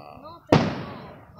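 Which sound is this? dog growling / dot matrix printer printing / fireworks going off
fireworks going off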